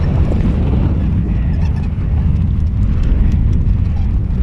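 Strong wind gusts through woods at a campsite, roaring loudly and without a break, buffeting the microphone the whole time with no speech.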